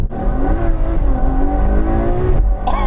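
A Ferrari 812 Superfast engine hums steadily from inside the cabin, its low growl rising and falling smoothly as the car drives along.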